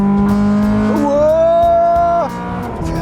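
A Honda Civic Type R EK9 with a 1600cc VTEC inline-four, over twenty years old, is revved once. Its loud, close engine note climbs steadily, holds high, then drops sharply off.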